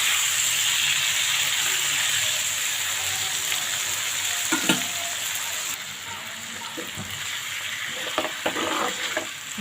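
Marinated fish sizzling in hot oil in a pan, a steady bright frying hiss with intermittent scraping and clicks of stirring toward the end, close and fairly loud.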